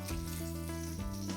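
Steady crackling sizzle of breaded food deep frying in hot oil in a restaurant kitchen, continuous and close, with a low hum beneath it.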